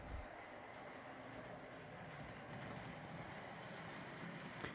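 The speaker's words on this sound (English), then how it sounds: "we have not shown a train running on it" An N scale model train runs around a layout loop, giving a soft continuous whirring rumble at low volume, steady and unbroken with no voices.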